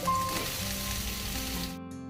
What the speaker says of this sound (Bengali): এবার আলুগুলো আরে ভেজে নেব